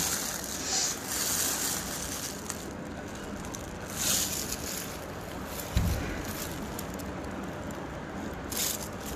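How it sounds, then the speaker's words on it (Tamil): Strong wind blows outdoors in a steady, buffeting roar, with gusts and a few thumps against the microphone and no speech. "காற்று பயங்கரமாக அடிக்குது"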